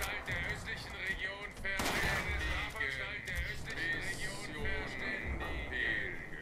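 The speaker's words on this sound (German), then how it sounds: "währenddessen kommen Schüsse von diesen Gefängnisbots" Prison robots in the video game Fallout 76 fire gunshots, with one sharp burst standing out among scattered shots. Voices talk over the gunfire throughout.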